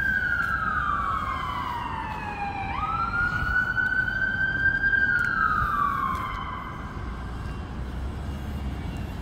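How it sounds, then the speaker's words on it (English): A loud wailing siren sweeps up and down in long cycles, rising as it draws near and then dropping in pitch as it passes by. "Just an ambulance coming."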